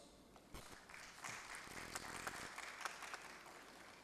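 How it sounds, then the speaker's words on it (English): Applause from an audience in a hall during a felicitation ceremony, a fairly faint, dense wash of clapping that swells after the first half second and carries on steadily to the end. "A big round of applause."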